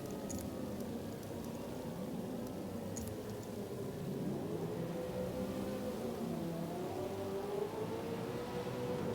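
GT race cars accelerating out of turn 1 at Spa in a racing video game, a steady layered engine drone with several overlapping pitches rising and shifting, continuous and moderately loud throughout.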